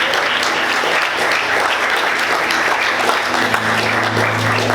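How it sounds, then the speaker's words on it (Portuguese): Church congregation applauding during a worship service, loud sustained clapping throughout with an organ or keyboard chord held underneath. "Vamos aplaudir Jesus."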